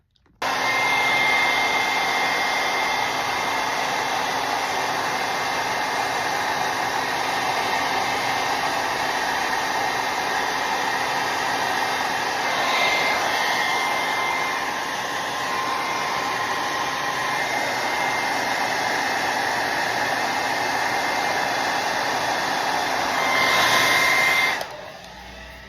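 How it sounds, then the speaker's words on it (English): A blow dryer runs steadily while drying a lace wig, a loud continuous whooshing roar close to the listener that holds for the whole stretch, with slight shifts in tone as it moves and a switch-off at the end. "we get the blow dryer and dry it."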